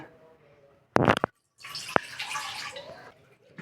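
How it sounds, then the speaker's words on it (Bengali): Water splashes briefly into a measuring cup for tea, then pours in a steadier, brighter stream, close by and moderately loud, with a clink between the two pours. "এই যে কাপ এবার মেজারমেন্ট করে জল দাও"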